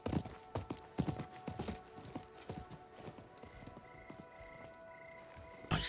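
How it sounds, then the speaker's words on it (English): Horse hooves clopping in the Diablo IV video game, a string of sharp clip-clop strikes that start loud and close, then thin out and fade to softer scattered steps, with a faint tonal game sound in the background. "I think that was the merchant's horse."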